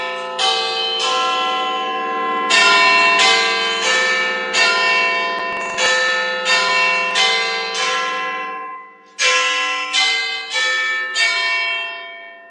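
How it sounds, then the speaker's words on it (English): Big Ben, the great clock-tower bell in London, chiming a sequence of loud, ringing strikes with long overlapping decays, about a dozen tones in steady succession with a short gap before the final few. "But that's the sound of Big Ben, actually."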